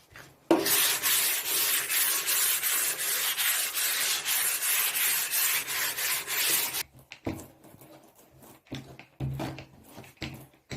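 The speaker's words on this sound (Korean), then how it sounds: "사포로 표면을 다듬어주고" Steady, loud scratchy rasping of sandpaper worked over a paulownia wood cabinet for several seconds, then a few short strokes and light knocks close by.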